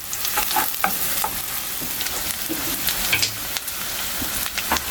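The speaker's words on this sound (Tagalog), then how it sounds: "Haluin lang natin." Lechon paksiw is stirred in a hot pan, making a loud, continuous bubbling sizzle with scattered scraping and clicking from the spoon against the pan, nearby and without speech.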